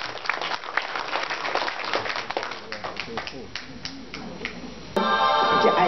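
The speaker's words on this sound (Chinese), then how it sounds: "大家掌声鼓励。" Audience applause at a karaoke red-versus-white singing contest, a dense steady patter of clapping that runs for several seconds before music cuts in abruptly near the end.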